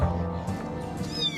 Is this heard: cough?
no